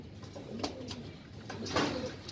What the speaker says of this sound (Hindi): मद्रासी कबूतर है ये भी।